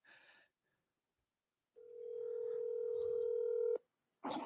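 A phone dialing tone holds steady and loud for about two seconds while a call is placed back to someone, with a short burst of voice before it and another right after.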